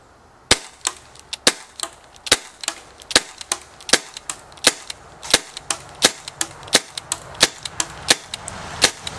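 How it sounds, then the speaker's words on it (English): C41 CO2 airsoft pistol firing rapidly at a blue circular plastic target 68 feet away, about twenty sharp, snappy shots in a steady quick rhythm, close and loud with no talking. "we're just going to show a little quick shooting here"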